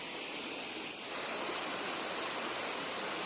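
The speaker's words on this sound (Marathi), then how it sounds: "छोटासा वॉटरफॉल आणि ते खळखळतं पाणी" A small roadside waterfall in a forested ghat babbles with a steady rushing wash of water, fairly faint at first, then growing fuller and closer partway through and holding there.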